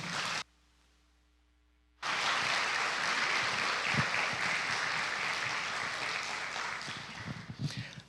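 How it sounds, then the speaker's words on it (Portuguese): A brief lull gives way to sustained applause from a church Sunday school crowd, continuous and fairly dense, fading slightly toward the end. "Salva de palmas para a Bíblia."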